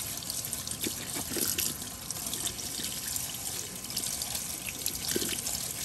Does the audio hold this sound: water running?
yes